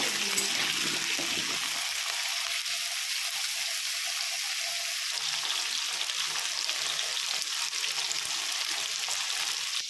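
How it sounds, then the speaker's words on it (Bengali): Diced potatoes fry in hot oil, a steady even sizzle holding throughout with faint stirring clinks early on, close and constant with no talk. "এবার ওই তেলে ডুমো ডুমো আলুগুলোকে আমি লাল লাল করে ভেজে নিচ্ছি।"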